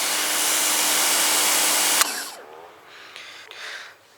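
A cordless pressure washer fitted with a turbo nozzle sprays loudly and steadily for about two seconds, then cuts off sharply, leaving quieter splashing and dripping.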